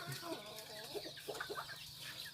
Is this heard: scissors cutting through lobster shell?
no